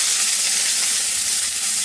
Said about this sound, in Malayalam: ഇനി നമ്മൾ അരിഞ്ഞു വെച്ചേക്കുന്ന മാങ്ങ ഇതിലേക്ക് ഇട്ട് കൊടുക്കുക